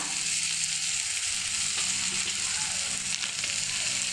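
Tomatoes frying in a pan while being stirred until soft, a steady close hiss of sizzling oil throughout with faint occasional scrapes from the stirring.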